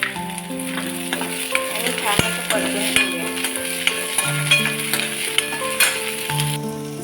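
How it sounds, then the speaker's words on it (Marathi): Onion and green chili fry in oil for kanda poha, a steady sizzle with occasional stirring clicks, heard beneath sustained background music tones. "कांदा सोनेरी होईपर्यंत परतून घेऊया कांदा आपला गोल्डन ब्राऊन झालेला आहे त्याच्यामध्ये घालूया हिरवी मिरची"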